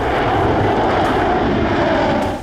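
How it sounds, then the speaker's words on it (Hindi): A fighter jet roars at a Chinese air base, a loud steady engine rumble with no gaps, heard alone with no voices. "एटमी हमले में इस्तेमाल होने वाले फाइटर जेटों का बेड़ा होटन पर तैनात है"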